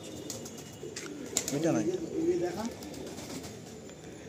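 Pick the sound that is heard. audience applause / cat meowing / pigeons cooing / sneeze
pigeons cooing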